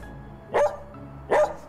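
A dog gives two sharp, loud barks spaced about a second apart, each answering a spoken arithmetic question, with no talking during the barks.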